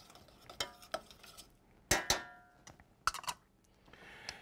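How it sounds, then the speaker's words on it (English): A spoon stirs brown sugar into a homemade watermelon barbecue sauce in a pot. Sharp clinks and scrapes come close and scattered against quiet, with no voices. "Brown sugar, which we're going to stir in there"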